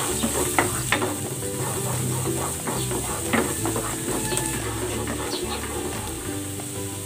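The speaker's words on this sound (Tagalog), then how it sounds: "Gigisa ko na tong bawang" Garlic sautéing in butter in a pan, a continuous close sizzle with occasional spoon and pan clinks and stirring scrapes.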